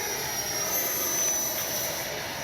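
An FMS Futura 80mm electric ducted-fan RC jet airplane flies overhead, giving a continuous, steady high-pitched whine and rush that holds at the same level throughout, with no voices.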